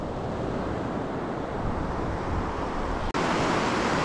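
Sea surf rolling onto the beach at Atlit, a constant roaring wash of waves mixed with wind buffeting the microphone, steady and fairly loud, with a brief dropout near the end and no voices.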